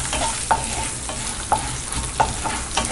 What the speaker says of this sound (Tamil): 1 டேபிள்ஸ்பூன் உளுத்தப்பருப்பு நல்லா பொன்னிறமாக வறுத்துக்கலாம்